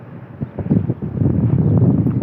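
Cold, gusty wind rushes outdoors in a rural setting, roaring and buffeting close to the microphone and growing steadily stronger and louder over a couple of seconds, with no voices.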